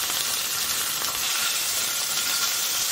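A French-cut rack of lamb sears in a frying pan, giving a steady, even sizzle with a bright hiss that holds at moderate loudness throughout, with no voices.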